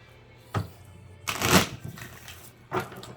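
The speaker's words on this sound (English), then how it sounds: "Let me give it 1 more, or 2 more, or maybe 3 more shuffles." A deck of tarot cards is shuffled by hand up close in three quick riffling bursts, the middle one longest, separated by short pauses of near quiet.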